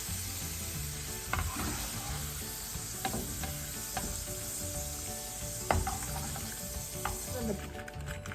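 Spices and dried chillies frying in oil in a pan for a Sri Lankan Tamil string hopper mix with eggplant, a steady close sizzle with occasional clinks and scrapes of a stirring spoon.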